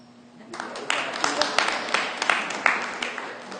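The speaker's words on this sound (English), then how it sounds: "You can applaud." An audience applauds a speaker being welcomed at a United Church of Religious Science service: steady clapping from many hands swells in after a brief quiet start and continues evenly throughout, moderately loud and close.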